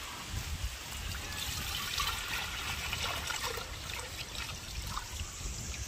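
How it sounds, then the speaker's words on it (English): Coconut milk pouring into a cooking pot outdoors, a steady liquid trickle and splash at close range over a low background rumble, continuous for the whole stretch. "same time Chris I get in the coconut milk"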